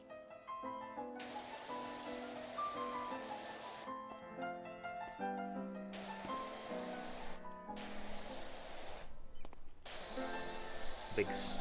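A large round pressure washer surface cleaner spraying along the borders of a surface, sounding as loud hissing bursts that start and stop over backing music, with no talk.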